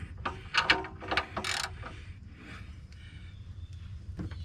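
A wrench ratchets in short bursts while snugging down the exhaust donut gasket bolts on a 2011 Nissan Altima 2.5 during a catalytic converter replacement, clicks close and clear over a low hum, then easing off.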